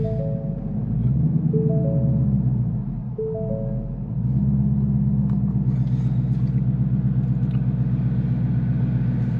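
A Ford Mustang S550 engine rumbles loudly and steadily at idle, close by, with a brief dip in level before settling into an even drone.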